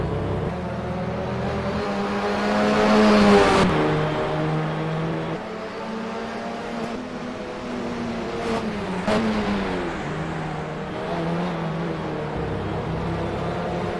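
Touring race cars lapping through the Imola chicane in a racing video game, engines whining and shifting pitch as they brake and accelerate, with a steady loud drone and occasional passing swells.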